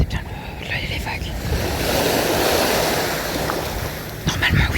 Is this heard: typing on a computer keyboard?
no